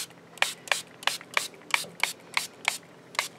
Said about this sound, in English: So spray it on until you're happy.